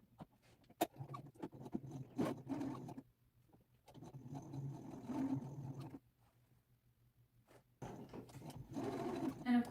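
Quiet bursts of a sewing machine stitching suit jacket seams, running in several stretches of a few seconds with short pauses between them.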